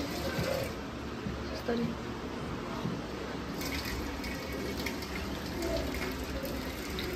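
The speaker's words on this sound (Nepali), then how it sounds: "यहाँ चाहिँ अब मम्मीले पानी फाल्दै हुनुहुन्छ बिरयानीको साथीहरू" Water pours steadily from a pot of parboiled biryani rice being drained in a home kitchen, a continuous soft splashing rush under quiet talk.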